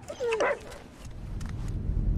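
A video-game dog gives a single sharp yelp and whimper up close, followed by rumbling background noise.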